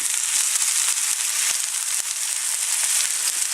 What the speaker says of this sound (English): the pan's a bit crowded with mushroom and steak at the moment